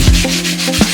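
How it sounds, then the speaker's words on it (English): A tool scrapes leftover clay off the surface of a concrete coffee table, making a short, close rasping rub that comes in two quick strokes. "you're going to want to kind of scrape off this clay from yesterday"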